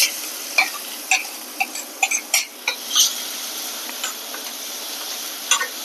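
Fennel seeds sizzle in hot oil in a frying pan as two large chopped onions go in for a vegetarian mutton-style fry, giving a steady close hiss broken by sharp ticks and scrapes of stirring.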